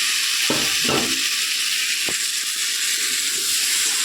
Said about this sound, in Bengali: এবার এটার মধ্যে আমি ভেজে রাখা আলুটা অ্যাড করে দিলাম